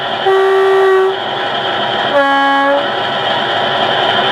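Two-tone horn of a sound-fitted Accurascale Class 50 OO gauge model diesel locomotive, BR General Sector 50149 'Defiance': a low blast followed by a higher blast, played through the small onboard speaker over a steady engine hum.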